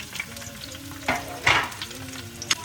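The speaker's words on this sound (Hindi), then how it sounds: "मैं जो वो हरी मिर्चें थी उनको फ्राई कर रही हूँ बेसन में" Green chillies coated in gram flour batter sizzle in hot oil with a steady crackling fry, broken by a few louder stirring scrapes and spatters, close up and without talking.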